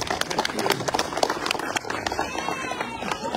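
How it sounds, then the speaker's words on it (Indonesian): Dense crowd applause at an Islamic religious gathering in Bawean, many hands clapping together in a continuous loud patter with voices mixed in. "Tepuk tangan untuk Bawean."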